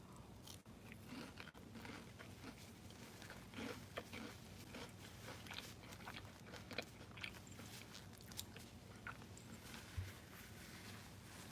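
Someone bites into and chews a crunchy snack close up, with repeated sharp crunches and mouth noises coming in an irregular rhythm at a fairly low level, and no talking.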